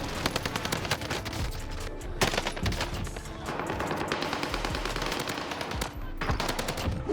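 Rapid automatic fire from an H4 Blixen submachine gun in a video game, loud continuous bursts with short breaks and sharp individual shots throughout.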